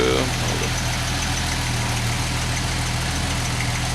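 A Jeep Wagoneer XJ with a fuel issue idles steadily after a cold start, a close, low, even engine rumble with a faint hum and voices talking briefly at the start.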